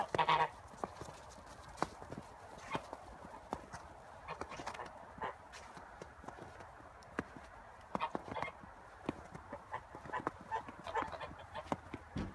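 Toulouse geese coming in for the night honk repeatedly in short, scattered calls at moderate distance, mixed with soft clopping and rustling sounds.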